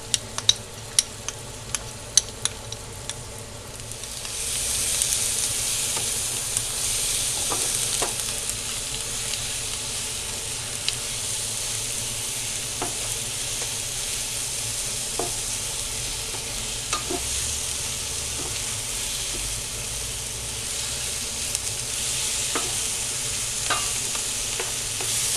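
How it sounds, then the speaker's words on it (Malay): Curry paste with garam masala, ginger garlic and ground coriander for a Kerala beef curry sautés in a pan. A few sharp clicks come first, then a steady hiss of sizzling with periodic scrapes of stirring. "Kita nak tumis dia."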